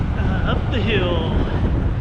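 Wind buffets the microphone during a ride up a hill, a rough, steady roar of gusting noise with a voice speaking faintly beneath it.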